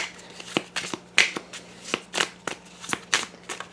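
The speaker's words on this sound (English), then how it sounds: "And we're going to shuffle that deck up" A deck of cards being shuffled, crisp riffling bursts and flicks repeating in a quick uneven rhythm, close and fairly quiet with no talking.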